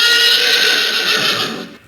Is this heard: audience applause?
no